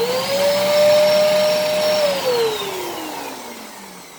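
A clogged Dirt Devil vacuum cleaner runs up close with a loud, strained whine that holds steady, then drops in pitch and fades as the motor winds down.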